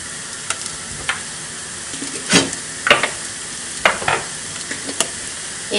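Tomato paste being sautéed and stirred in a pan for a bolognese pasta bake, with soft sizzling under scattered scraping stir strokes and a few louder clatters, no voices.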